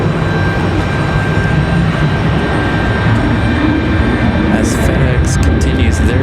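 A jet airplane departing Raleigh Durham airport in windy conditions gives a loud, sustained engine roar throughout, with a person talking over it.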